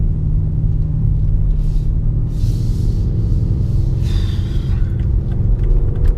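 A 2019 BMW M5 Competition with 616 bhp, driving in heavy traffic, gives off a steady, low engine rumble heard from inside the cabin, with no clear rise in revs.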